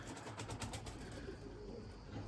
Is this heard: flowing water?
no